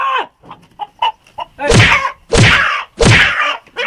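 Three loud, harsh squawking bursts from a frightened rooster, evenly spaced, after a few softer clucks and rustles near the start.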